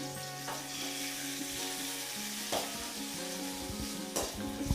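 Chopped tomatoes and onions sauté in a pan with a continuous close sizzle, broken by a few louder stirring scrapes at irregular intervals.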